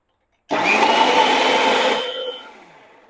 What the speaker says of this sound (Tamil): இப்போ மிக்சியில் போட்டு நல்லா அரைச்சி எடுத்துக்கணும்